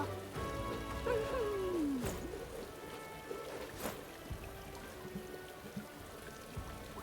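Steady, soft rain falls in a fantasy role-playing video game, a faint continuous patter with occasional tones and a brief sweeping effect, no speech over it.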